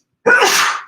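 A single loud, close sneeze bursts out abruptly and fades over under a second, with no talk around it.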